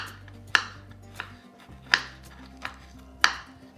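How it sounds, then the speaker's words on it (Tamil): A knife cuts bitter gourd into thin rounds on a board, giving three sharp, crisp chopping strikes spaced about 1.3 seconds apart, with softer taps between them. The sound is close and clear, and no one talks. "இந்த பாகற்காயை நம்ம நறுக்கிக்கலாம்."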